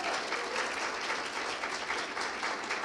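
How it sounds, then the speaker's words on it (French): Congregation applause during a Thursday evening church service, a fairly soft but continuous patter of many hands clapping together, steady and unbroken for a few seconds with no speech over it. "On va applaudir à toutes ces personnes qui nous rendent visite sur Internet aussi."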